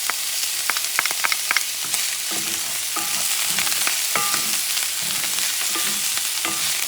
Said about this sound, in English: And I'm mixing this stuff up just to get those aromas, get those flavors